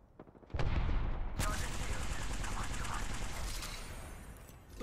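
Rapid bursts of gunfire erupt in a video game firefight, loud and dense, with overlapping shots rattling for several seconds and tapering slightly toward the end.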